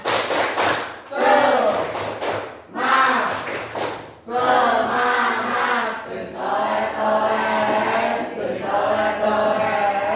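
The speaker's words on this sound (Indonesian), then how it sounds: "berikan tepuk semangat kepada mereka" Group clapping in a classroom or training session, bursts of hands striking together in short rhythmic sequences, fairly loud and close, with voices chanting and calling along.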